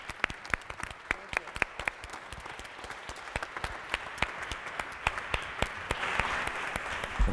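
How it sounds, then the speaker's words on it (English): Applause from an audience at a cultural heritage panel, many hands clapping in a dense, continuous patter of moderate loudness for several seconds, heard from some distance in a hall. "One more round of applause."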